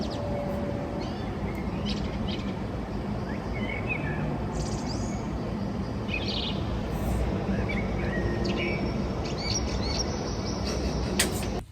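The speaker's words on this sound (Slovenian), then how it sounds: "sam poslušaj, ptičke" Birds chirp outdoors on a foggy late-January day, giving small scattered tweets and calls against a steady, dense background hiss, with no talking.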